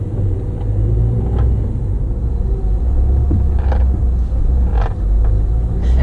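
A car drives through a traffic circle in Albania, its steady engine rumble and road noise loud and close throughout, with a few faint brief clicks or taps on top and no talking.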